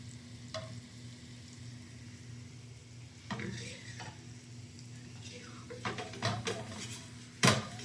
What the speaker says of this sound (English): hope that's enough oil for this tofu. Want it nice and brown